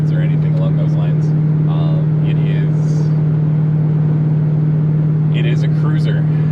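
A 1988 Ford LTD Crown Victoria with a 5-speed manual cruises along, a steady low engine hum holding constant inside the cabin while someone talks intermittently.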